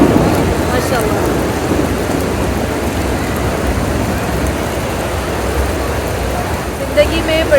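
Heavy downpour in Madina with rumbling thunder, a loud, continuous roar of rain hitting surfaces and a road, with faint traffic mixed in.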